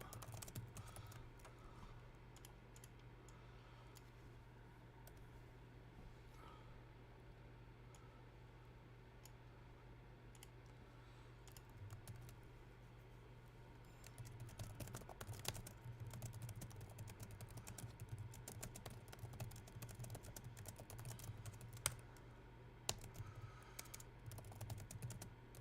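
Steady typing on a computer keyboard during trading journaling and backtesting, rapid quiet key clicks in an irregular rhythm that grow busier and a little louder in the second half, over a low constant hum, with no one speaking.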